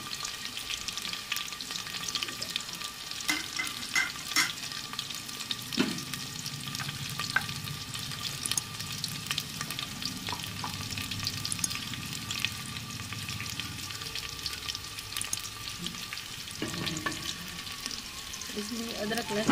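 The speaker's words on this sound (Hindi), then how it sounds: "हल्का ब्राउन होने तक भूनेंगे।" Ingredients frying in a pan with oil while being stirred until lightly browned for a fenugreek and potato curry: a steady close sizzle with scraping stirs and occasional clinks throughout.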